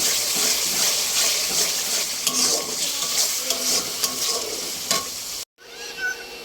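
Giant river prawns and spices fry in a wok with a loud, continuous sizzle and occasional scraping stirs, cutting off abruptly near the end to a quieter background.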